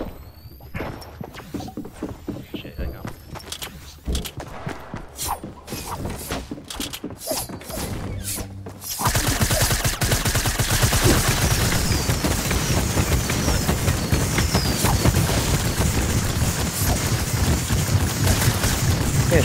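Video game gunfire, first as scattered single shots and short bursts, then a dense, continuous fusillade of automatic fire that grows loud and fills the second half.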